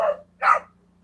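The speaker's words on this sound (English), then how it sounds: "I can't hear over all the dogs barking" Two short, loud dog barks close by, a quick pair about half a second apart, with a faint low hum underneath.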